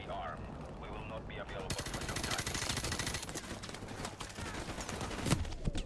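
Machine gun fire rattles in Call of Duty 4: Modern Warfare Remastered, a dense run of rapid shots and cracks over constant battle noise that grows busier partway through.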